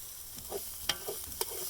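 Paella rice browns in a pan, a soft, faint sizzle broken by a few light stirring scrapes and clicks.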